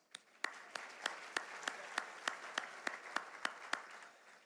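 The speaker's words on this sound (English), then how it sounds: "Would you please give them a round of applause?" Luncheon audience at an annual Louisiana business event gives a round of applause, sparse and faint, with a few sharp, distinct claps standing out at a slow, regular pace over a quiet background.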